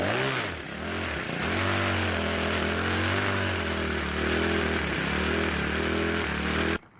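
A Troy-Bilt 4-cycle string trimmer engine that is losing gas and running poorly fires up and runs loud and close, its tone wavering and surging unevenly for several seconds before cutting off abruptly.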